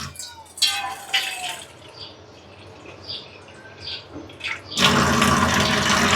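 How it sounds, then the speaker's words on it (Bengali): Water poured into a pressure cooker over soaked lentils for bitter dal, splashing and trickling up close, ending in a loud steady gush of water. "অল্প জল দিতে হবে।"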